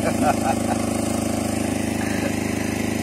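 A small 8 kVA mini generator engine runs steadily after a rebuild, giving a continuous droning hum with a regular pulsing beat. Brief talk comes through at the start.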